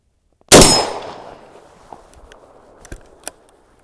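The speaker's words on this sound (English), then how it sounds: "And we switch to the rifle, cock the action." A Heym combination gun is switched to its rifle barrel and the action cocked: one sharp, loud metallic clack that rings out and decays, followed by a few quieter clicks and small handling knocks.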